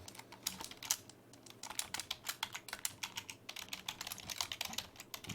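Fast, uneven clicking of a computer keyboard being typed on, heard at low volume throughout with no voices.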